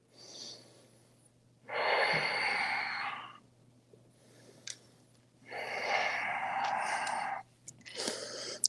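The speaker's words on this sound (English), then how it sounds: "Let's take 5 deep breaths here." Deep breaths drawn during a gentle yoga stretch: two long, slow airy inhales or exhales, each lasting about two seconds, close and clear, with quieter breath sounds between them and a steady low hum underneath.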